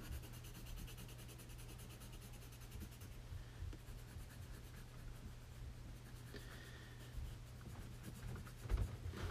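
The side of a pencil shades on paper in quick, steady rubbing strokes, a continuous close scratchy swish that runs unbroken for several seconds with slight bursts near the end.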